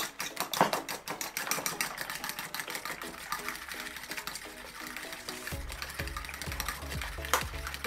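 Eggs being whisked by hand in a bowl for a fluffy omelette, a rapid, steady scraping and clicking rhythm running throughout at close range, with no talk over it.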